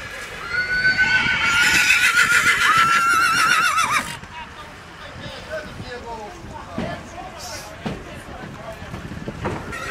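Horses whinnying loudly and repeatedly up close at a horse market in Skaryszew, the calls filling the first four seconds, followed by quieter crowd noise, scattered knocks and clatter.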